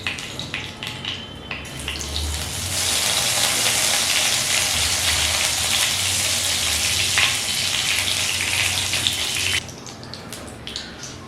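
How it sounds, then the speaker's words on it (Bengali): Whole spices (small cardamom, cinnamon pieces, cloves and cumin seeds) dropped into hot oil over a low flame burst into a loud, steady sizzle that holds for several seconds before dropping back to a quieter crackle. "তেল গরম হয়ে গেলে ফ্লেম লোতে করে দিয়ে ফোড়নে দিয়ে দেব 4টে ছোট এলাচ, 2টো টুকরো দারচিনি, 4টে লবঙ্গ আর 1/2 চা চামচ গোটা জিরে"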